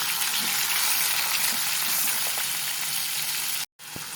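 Marinated meat for fried lagman sizzles steadily in a hot pan, a loud, even hiss that stays constant before cutting out briefly near the end.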